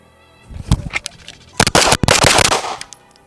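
Rapid pistol shots from a BUL Armory Tac Pro 5-inch 1911 at a shooting range, a sharp close crack followed by a dense string of quick, loud reports that echo between bursts.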